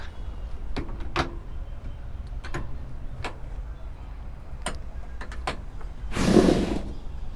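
A 2025 Ford Ranger Raptor rear tailgate, a heavy one with an assist system, is opened: a few scattered ticks and clicks, then a short rushing swing near the end, fairly quiet and without speech.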